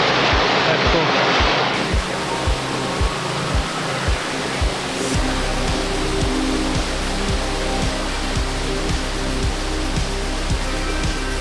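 Water rushes down at Little Mashel Falls near Eatonville, Washington, a loud, steady roar close by, with faint rhythmic thumps running beneath it.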